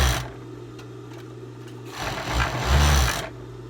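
A sewing machine stitches the seams of a winter teddy jacket with a zipper, a steady low mechanical hum running throughout and swelling louder near the end.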